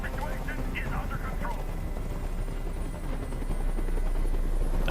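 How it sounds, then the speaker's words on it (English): A helicopter in the video game Detroit: Become Human thrums steadily overhead, loud and continuous throughout and building slightly near the end, with game sounds and voices layered over it. "Tell that helicopter to get out of here."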